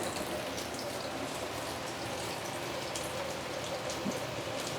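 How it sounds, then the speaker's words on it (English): Siakap fish frying in hot oil, giving a steady, even crackling sizzle that fills the whole stretch with no voices. "Fish frying is done."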